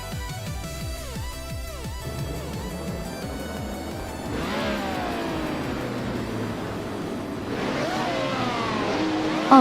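Race cars revving and accelerating at the start of a racing video game event at Sydney Homebush Street Circuit, with engines rising and shifting through gears, a second wave of revving surging in, and continuous loud engine drone throughout.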